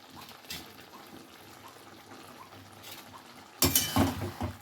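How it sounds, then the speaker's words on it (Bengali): A spatula scrapes faintly in a wok as cauliflower, potato and peas are stirred with spices. Soft, quiet clinks run throughout, then end in a louder burst of metal scraping near the close. "কপি আলু কড়াইশুটি দিয়ে মশলাটাকে কষে নেব"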